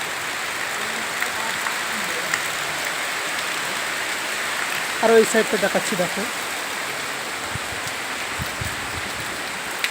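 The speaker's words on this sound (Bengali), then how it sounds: "আজ কিন্তু প্রচুর হারে বৃষ্টি হচ্ছে" Heavy rain pours down steadily and loudly throughout, a dense unbroken hiss, while someone speaks briefly near the middle.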